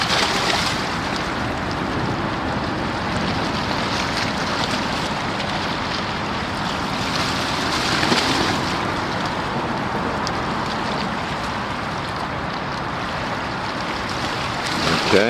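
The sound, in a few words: container ship APL Coral arriving at NYC from Singapore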